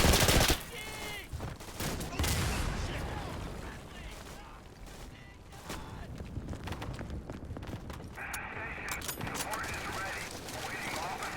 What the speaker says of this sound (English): recoil that you get from the grease gun is actually quite substantial